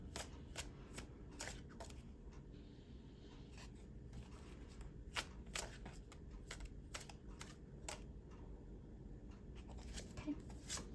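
Tarot cards being handled and a card drawn from the deck, heard as soft repeated flicks and shuffling rustles close to the listener. The sounds are quiet, with a light background hum and no talking.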